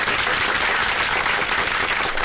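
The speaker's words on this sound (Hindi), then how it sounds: "तालियां" A crowd in a Hindi action film breaks into sustained applause, a dense, steady wash of clapping that stays loud and even throughout with no voices on top.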